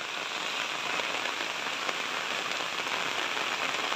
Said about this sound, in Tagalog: Grabe, sobrang lakas ng ulan, kahapon pa.